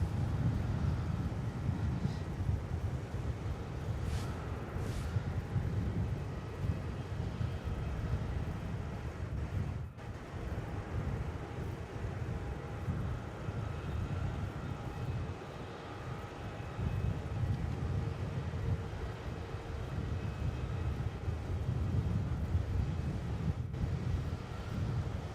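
A Dash 8 turboprop airliner at Melbourne Airport drones steadily at a distance, its engine roar continuous and broadband, with some wind noise over the microphone and no voices.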